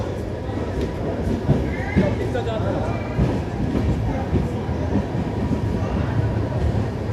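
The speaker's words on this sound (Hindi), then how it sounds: "पहले ट्रेन चली जाने दी" A train rolls past with a steady, loud rumble and clatter that lasts throughout, while people talk nearby.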